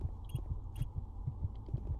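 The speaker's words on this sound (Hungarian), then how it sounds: "Misu, mi ez a szívdobogás?" A heartbeat thuds in Doom 3, soft paired beats repeating at an even, fairly quick pace over a faint low hum.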